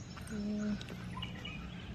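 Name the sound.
birds chirping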